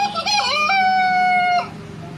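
A person mimics a rooster crowing with a single rising-then-held cock-a-doodle-doo call, close and loud, that ends abruptly into quiet.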